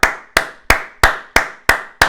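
Seven sharp, evenly spaced hand claps at a brisk steady rhythm, close and loud with no talking.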